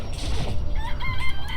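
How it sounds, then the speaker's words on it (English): A rooster crows amid clucking chicken sounds inside the Danganronpa: Trigger Happy Havoc video game, a short call over a low background hum. "The place even has chickens, huh?"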